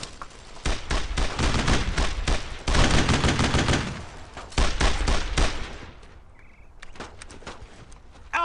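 Heavy World War II squad gunfire from Brothers in Arms: Road to Hill 30 crackles in dense, overlapping rifle and machine-gun volleys for six seconds, then thins to sporadic nearby shots before a final burst.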